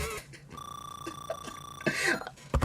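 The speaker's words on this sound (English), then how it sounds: "That's my alarm." A phone alarm goes off indoors, a steady electronic tone pattern with a sustained beeping note running for about a second and a half before it is cut off, followed by brief rustling and handling noise.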